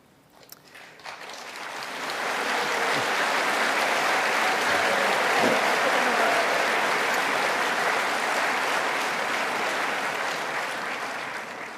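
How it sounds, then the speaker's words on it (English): Graduation audience at Cardiff Met's School of Sport and Health Sciences applauding the graduates, a dense, steady wash of clapping that swells in after about two seconds and holds strongly to the end. "Let's show our appreciation of all our students by applauding and cheering as the graduates process across the stage"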